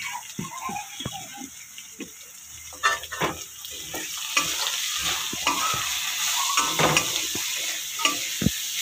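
Potatoes and onions fry in a pan with a soft sizzle, punctuated by repeated close scraping and clacking stirs that grow busier toward the end.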